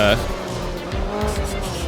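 A rally car's tires squeal briefly over a steady engine drone in the video game Art of Rally, with people talking over it.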